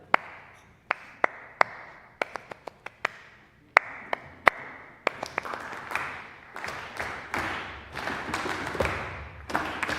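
Congregation members in a Unitarian Universalist church clap and snap along to a rhythm, starting as scattered crisp snaps and claps and thickening into dense, overlapping clapping by the end, no speech over it.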